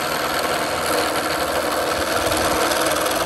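A Shopsmith lathe spins wood while a chisel cuts lightly, giving a dense, steady whirring hum with a faint scraping texture, close and continuous.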